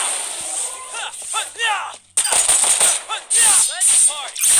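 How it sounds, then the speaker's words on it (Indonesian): Rapid bursts of automatic gunfire in the video game FF7 The First Soldier crackle in quick succession, loud and close, with a high electronic tone and speech-like sounds mixed in. "tadi ada suara tembakan kan?"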